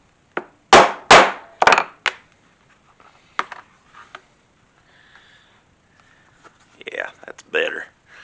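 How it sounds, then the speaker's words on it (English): Several sharp, loud hammer blows set a rivet on a leather wallet against an anvil, about four strikes in quick succession, then a lone tap and quiet handling noises, with brief talking near the end. "So I've got something good and hard to hit against, and I'm going to set that one more time."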